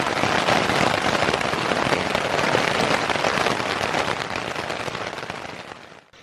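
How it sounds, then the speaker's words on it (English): Heavy late-afternoon rain pours down on a motorbike camp in the New England high country, a loud, dense, unbroken roar that holds steady for several seconds before easing and cutting off at the end. "Yeah, she's kind of raining out there."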